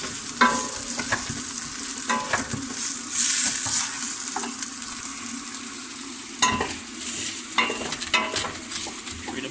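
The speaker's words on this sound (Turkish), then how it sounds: "Bu arada tencereyi karıştıralım. Çünkü dibine tutabiliyor." A spoon stirs vegetable soup with potato in a pot, giving repeated scraping strokes against the pot bottom over a steady sizzling simmer, close and moderately loud, with no talking.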